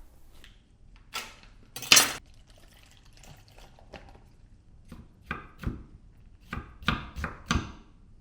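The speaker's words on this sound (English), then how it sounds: "gonna just try to cut this really thin" A knife chops food on a cutting board while slicing it very thin, about a dozen sharp, close knocks coming in irregular bursts, with one louder thud near the start and a few spoken words.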